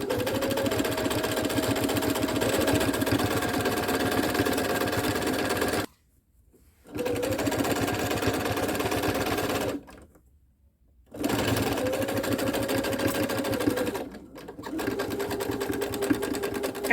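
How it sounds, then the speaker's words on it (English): A sewing machine stitching bias tape binding onto the raw edges of a Halloween-themed Renaissance faire bodice runs in three long, steady whirring bursts separated by brief silent pauses, close and fairly loud, with no talking. "I have all of my bias tape sewn onto the right side of my bodice here"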